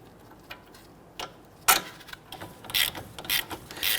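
A ratchet runs in the wheel hub bolts on a 2011-2015 Kia Sorento front hub assembly, with a few sparse clicks at first, then a sharp clatter and quicker bursts of ratcheting toward the end, close by and moderately loud.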